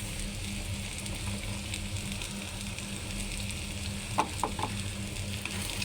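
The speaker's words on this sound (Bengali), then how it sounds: "দিয়ে একটু ভালো করে ভাজা লই" Ginger-garlic paste frying with prawns in a pan, a steady soft sizzle throughout with a few brief stirring clicks near the end, no talk.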